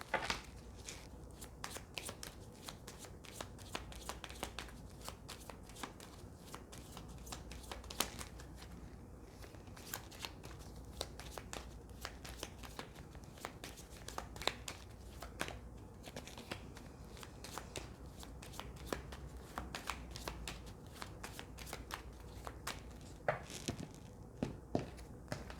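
Tarot cards are shuffled steadily by hand for close to half a minute, a continuous close riffle of soft slaps and papery flicks with occasional louder snaps and no voice over it.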